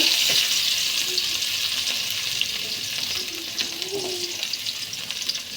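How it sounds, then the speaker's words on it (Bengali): Chopped onion frying in oil left over from frying fish, producing a loud, dense, continuous sizzle close up, with faint scrapes and clinks underneath and no talking. "এই যে তেলে দিয়ে দেবো, মাছ ভাজির তেলে পেঁয়াজ কুচি"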